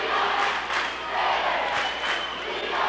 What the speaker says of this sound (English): As I'm sure you can hear these fans, Jonathan Alder and the Red Raider fans, both cheering their teams on